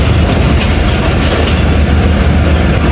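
A passenger train on the Gujrat to Attock line rolls into the small Dina station in Pakistan, giving a loud, continuous low rumble with steady wheel clatter, heard from on board.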